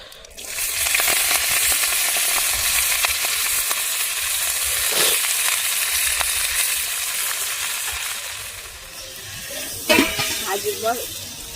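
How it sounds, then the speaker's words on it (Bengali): Chopped vegetables frying with bay leaf and panch phoron make a loud, close, continuous sizzling hiss, dipping briefly midway, with a few stirring scrapes and a short spoken remark near the end. "সবজিগুলো ভাজা হয়ে গেছে,"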